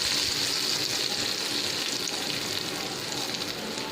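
Hot tempering sizzles loudly and continuously as it is poured over hot black lentil dal, a steady crackling hiss with no talking.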